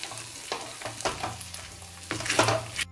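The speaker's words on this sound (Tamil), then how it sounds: "இன்னும் ஒரு 5 மினிட்ஸ் நல்லா கிண்டி விட்டுக்கலாம்" Thick Sri Lankan rice halwa (thothal) being stirred in a pan, a steady sticky scraping and bubbling with repeated stir strokes about every half second, close and fairly loud with no talking.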